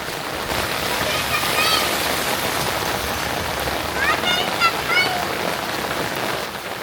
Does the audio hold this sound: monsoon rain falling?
yes